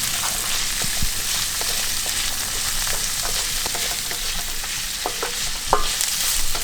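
Onion, carrot and peas stir-frying in a pan for fried rice, a dense continuous sizzle near the mic with scattered scraping taps from stirring, no talk.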